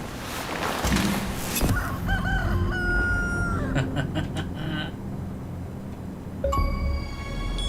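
A rooster crows loud and close in the video game Nobody Wants to Die, its drawn-out calls rising over a dense, shifting game soundscape.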